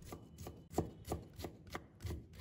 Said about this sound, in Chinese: 再改刀切成姜丝